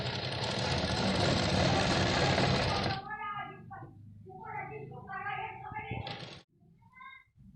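A sewing machine runs steadily while stitching a large katori-style blouse, a loud continuous whir for about three seconds, then stopping; softer handling noises and brief clicks follow.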